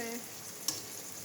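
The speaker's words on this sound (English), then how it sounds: "Add our saltfish. Give it a nice stir" Saltfish being stirred in a frying pan: a soft, steady sizzle with one brief scrape of the spoon midway, quiet and close.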